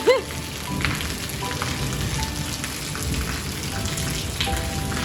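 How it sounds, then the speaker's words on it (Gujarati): Steady rain falls outside at night, a continuous close hiss of drops on surfaces that holds evenly throughout with no talk over it. "બહાર પડે છે વરસાદ"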